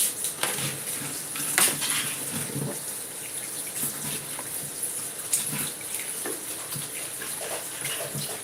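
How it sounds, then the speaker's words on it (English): Running tap water splashes steadily while something is rinsed under it at a kitchen sink during dinner preparation, with occasional light clinks of dishes, fairly close and continuous throughout. "so let me rinse this one"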